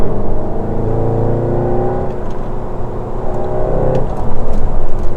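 A SEAT Leon Cupra hatchback engine switched into Cupra mode, running with a steady whirring drone that swells slightly toward the end, loud and close with no talking.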